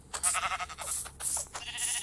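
Sheep in the video game Minecraft bleating several times in a row, with wavering, nasal calls that overlap and repeat at fairly close range, and no talking.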